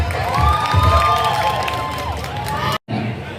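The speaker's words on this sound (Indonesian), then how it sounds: "Tepuk tangan dulu dong semuanya." A crowd at an outdoor political campaign rally in Depok claps and cheers loudly in a dense, steady roar with shouted voices and a wavering tone over it, then cuts off briefly near the end before resuming.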